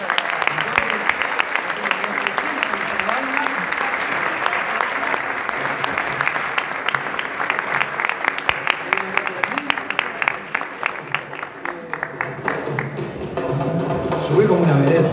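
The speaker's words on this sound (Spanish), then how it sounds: "Un aplauso para" Audience applause at a Uruguayan carnival awards ceremony, the Premios Romeo Gavioli, greeting a comparsa: steady dense clapping from a large crowd that keeps going throughout and swells slightly near the end.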